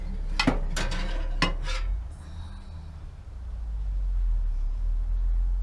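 A bread pan pulled from an RV oven: several sharp metallic clanks and scrapes close by in the first two seconds, then a low steady hum alone.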